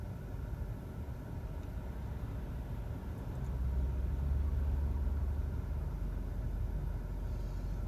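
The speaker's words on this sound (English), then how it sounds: "there's just like traffic here, and they close a lane" Steady low engine rumble of road traffic where a lane is closed, continuous and moderately loud, swelling slightly midway as vehicles idle and pass nearby.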